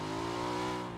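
A vehicle engine in the battle royale game PUBG, a steady mid-pitched hum held at an even level for a brief moment with no voices over it.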